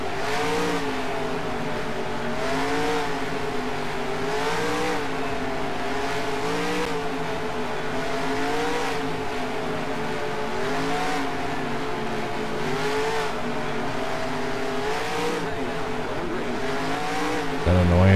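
Race car engine in the NASCAR Racing 2003 game, a stock car driven on the throttle, holding a loud, steady, buzzing drone that rises and dips in repeated waves, close and constant, with a sharper burst at the very end.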